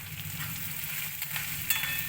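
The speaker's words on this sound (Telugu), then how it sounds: "గోల్డెన్ కలర్ వచ్చేదాకా వేగాలండి మనకి." Onions and green chillies frying in oil after the tempering, a steady close crackling sizzle with faint stirring and no talk.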